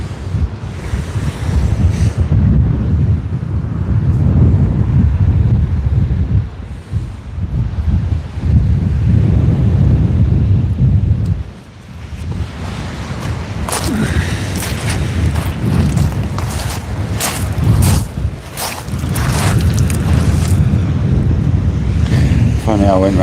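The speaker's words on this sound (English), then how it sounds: "The wind sort of eased a wee bit now. It does gust up still a little bit." Strong wind gusts buffet the microphone on the open sea from a fishing kayak, a loud continuous roar with surging swells and brief lulls, waves and surf mixed in throughout.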